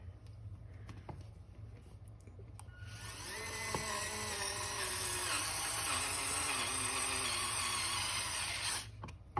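A cordless rotary tool fitted as a nut driver spins up and whines steadily for several seconds, its pitch wavering under load as it drives a screw, then stops. A few faint clicks come before and after.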